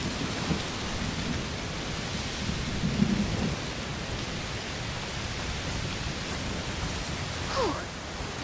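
Steady heavy rain and a low rumbling thunderstorm fill a scene in the video game A Plague Tale: Requiem, a constant dense wash with a faint distant rumble and no voices.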